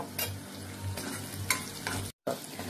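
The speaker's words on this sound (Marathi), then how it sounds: "आलं लसूणही आपण छान परतून घेतलेलं आहे।" Ginger garlic paste fries in a pan with onion, tomato, green chillies and curry leaves, a soft steady sizzle broken by scraping stirs of a spoon, with one very brief dropout.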